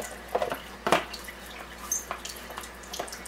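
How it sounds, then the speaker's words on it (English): Water runs from a Kangen water ionizer machine into a container, a soft continuous trickle with light splashing and drip-like spatters, close and moderately quiet. "I'm going to let it flow for another minute or so"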